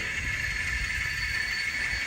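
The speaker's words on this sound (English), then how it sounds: "the locomotive is going to pull forward," A locomotive on the Parkersburg-Cincinnati interchange in Chillicothe pulls forward to couple onto a train, a low steady rumble and hiss heard at a distance under constant high-pitched background noise.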